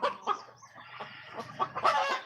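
Free-range country chickens cluck on a farm, a close, busy mix of short overlapping clucks and calls with a louder burst near the end.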